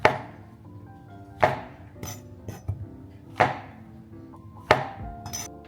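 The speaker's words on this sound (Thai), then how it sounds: "มาหั่นเห็ดต่อนะคะ" A knife chops mushrooms into thin strips on a cutting board. Close, sharp chops land at an uneven rhythm, with four loud strikes and lighter taps between them.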